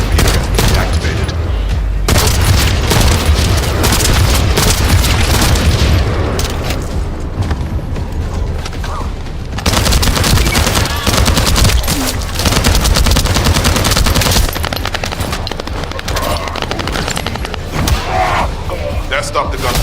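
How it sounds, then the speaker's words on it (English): Heavy sustained gunfire and explosions from a sci-fi shooter game, The First Descendant, with dense bursts and booms running loud and continuous throughout, dropping off briefly near the middle before resuming. "That stopped the gunfire."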